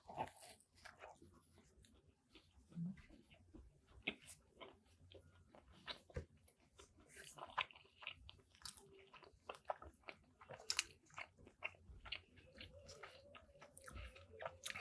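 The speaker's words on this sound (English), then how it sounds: "First chew." Close, wet chewing of a bite of Sonny's Double Banquet Burger, with irregular soft crunches and smacks repeating steadily with no talk.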